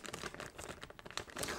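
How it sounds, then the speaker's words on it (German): A crinkly shopping bag rustles and crackles as an item is slipped back inside, with quick, close-up bursts of crumpling and a few sharper crinkles, with no voices. "Dann packe ich das jetzt eigentlich wieder in die Tüte."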